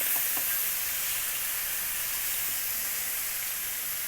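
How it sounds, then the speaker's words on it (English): Chicken and shrimp searing in a hot pan give off a loud, even, close sizzle that hisses steadily throughout, with no voices. "Just rest that there. Let it sear."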